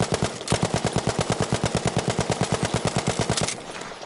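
Rapid automatic hip-fire bursts from a weapon in the Battlefield V shooter game, a steady string of sharp, close, loud shots in a fast even rhythm that stops abruptly, leaving quieter game ambience.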